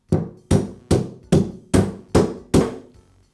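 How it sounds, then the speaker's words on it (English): A rubber mallet taps a Makita plunge router base down onto its armature shaft: seven even, dull thuds about half a second apart, close and solid, each ringing briefly. "I'll use a rubber mallet to tap the base down onto the armature shaft"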